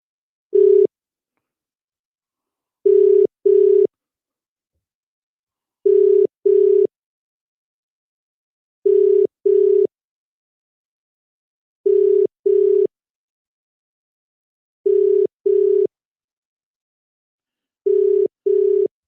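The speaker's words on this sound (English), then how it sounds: "the call is failing for some reason" Phone line tone on a call that is failing, sounding as a repeating pattern of short steady beeps, mostly in pairs separated by long silences, loud and clean with no one talking.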